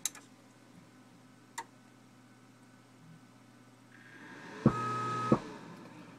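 An iNUKE NU3000DSP amplifier powering up and dropping into protection mode: a few faint relay ticks, then a rising hum and a steady tone bracketed by two clicks, fairly quiet overall.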